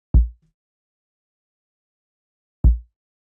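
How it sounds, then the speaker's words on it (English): Two sparse, muffled low-passed kick drum thumps for a chill bass music beat, one at the start and another a couple of seconds later, each a short deep punch with silence between. "the next thing we've got here is the kick"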